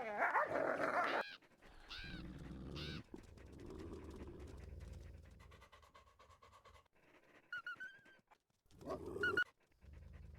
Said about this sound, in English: Sorry if you guys hear the barking dog.